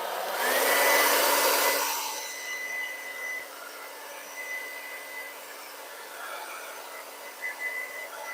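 A handheld dryer blows over wet acrylic pour paint to pop bubbles, starting with a loud steady whoosh and then dropping to a softer, continuous hum.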